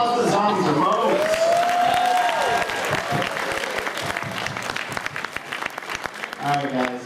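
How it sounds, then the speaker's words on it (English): A festival film-premiere audience applauds for costumed zombies, loud dense clapping and some cheering that slowly thins out, with a voice talking over the crowd. "Round of applause for the zombies are modes"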